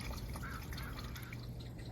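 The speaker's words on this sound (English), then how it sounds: "that water dripping off the edge of the shingle into the gutter" Steady patter of water dripping off the edge of roof shingles into a rain gutter, a dense, continuous wet drizzle over low rumbling background noise, fairly close and without pauses.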